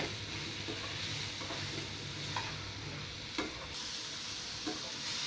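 Spice paste mixture frying in a pan for a mushroom and pea green curry, a faint, steady low sizzle with occasional soft stirring clicks and no voices.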